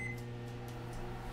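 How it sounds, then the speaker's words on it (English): A running microwave oven gives a steady, low electric hum with a faint rattle, quiet and unbroken throughout. "Stupid microwave."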